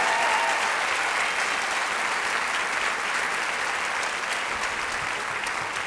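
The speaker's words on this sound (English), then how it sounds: "So one more round of applause for Katie and Joey." Steady applause from a school audience at an opening-day presentation fills the room for several seconds at an even, dense level, with no voices rising above it.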